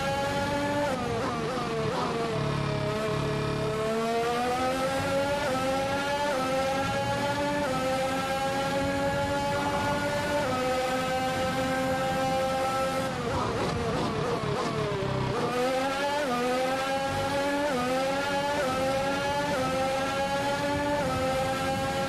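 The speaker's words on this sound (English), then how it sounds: "How's the engine noise for you" Race car engine roar from a racing video game, a continuous loud high-revving whine that climbs and dips through gear shifts, with no talking over it.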